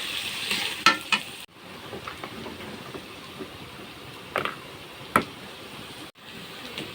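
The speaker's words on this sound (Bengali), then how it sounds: "গরম হয়ে গেছে, পেঁয়াজ কুচি দিয়ে দিলাম।" Chopped onions and green chilies fry in hot oil for a dried-fish curry, a soft continuous sizzle broken by a few sharp scraping stirs of a spoon in the pan.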